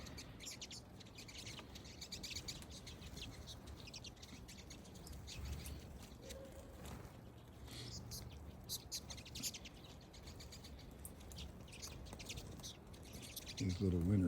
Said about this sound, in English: These little winter finches are so tame.